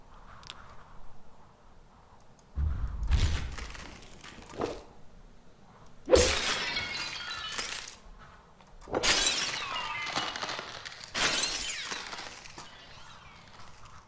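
Glass shattering in the Superhot video game, several sharp crashing bursts in a row separated by short quieter gaps, fairly loud and close with no talking over them.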